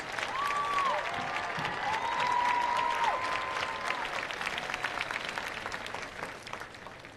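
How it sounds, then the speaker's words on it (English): Audience applause for graduating honor students at the 2023 Franklin High School graduation ceremony, a broad, steady wash of clapping from a large crowd that holds for the full stretch, with faint tonal squeals and murmurs mixed in. "Please give them a huge round of applause."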